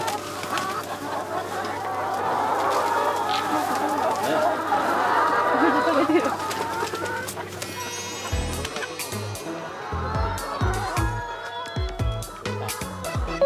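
Free-range chickens on a farm, kept outdoors beside their coop, with a busy background of clucking and fowl calls, while a person talks over it for much of the time.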